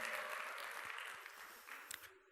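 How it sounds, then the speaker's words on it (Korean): Audience in a Korean church sermon giving a round of encouraging applause, a brief, moderate burst of clapping from a small gathering that fades out within a couple of seconds. "우리 격려 박수 한번 하십시다"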